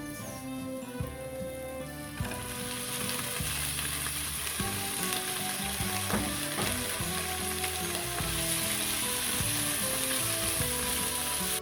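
Tomatoes sizzle as they go into a hot pan for fish sinigang, a steady loud frying hiss with stirring scrapes running throughout.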